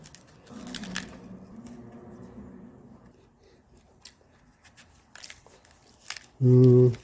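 Someone takes quiet crunching bites of a stored sweet potato and chews it, producing soft, irregular sounds close up. A short, loud tonal sound comes at the end.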